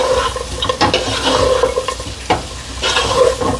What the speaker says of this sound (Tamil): உள்ளியை போட்டு வதக்கினேன், கணக்க உள்ளியை போட்டு வதக்கி விட்டேன்